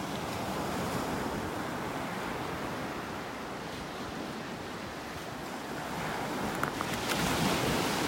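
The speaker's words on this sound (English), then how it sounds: "To listen and enjoy the wave sounds." Continuous roar of ocean surf washing on a beach in North Naples, Florida, steady and broad, with wind buffeting the microphone and no talking.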